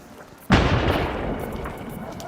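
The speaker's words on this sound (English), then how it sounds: "That's a heavy gun." A heavy artillery gun fires during fighting in Ukraine: one sudden loud boom lands after a short quiet stretch and rolls on into a long, dense rumbling decay.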